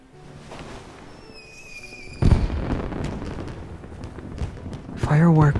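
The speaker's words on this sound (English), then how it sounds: "Fireworks are beautiful," Fireworks in the video game Love and Deepspace, a whistling rocket rising then a loud burst with crackling debris, followed by a close bang as a voice begins speaking.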